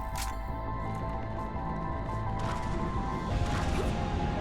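Glass shatters during a firefight in the Mass Effect 3 video game, several crashing and smashing bursts breaking through dense game sound and music, with a brighter crash near the end.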